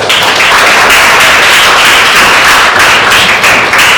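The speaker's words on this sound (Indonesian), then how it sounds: "Kita beri tepuk tangan semua." A classroom audience of students claps loudly and continuously after a group presentation, a dense, bright wash of hands that runs steadily throughout.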